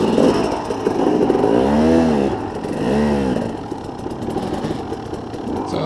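A KTM enduro dirt bike, a 300 or 250, revs up and down in two clear swells before settling to a rough idle, close and loud on a wooded trail.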